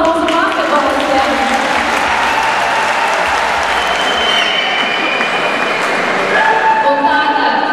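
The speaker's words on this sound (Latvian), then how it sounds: "Aplausi mūsu basketbolistiem!" A crowd at the presentation of the Jēkabpils basketball club claps loudly and steadily for its players, with cheers, shouts and what may be a dog's yips scattered through the ovation.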